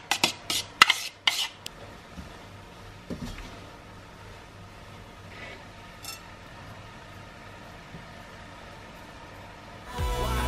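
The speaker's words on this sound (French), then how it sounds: "je vais l'égoutter et je vais également égoutter et couper mes cœurs d'artichaut" Kitchen work while draining canned corn and cutting artichoke hearts: a burst of sharp clinks and clatters of utensils against a can or bowl at the start, then sparse quiet taps and handling noises, and a louder rustle at the end.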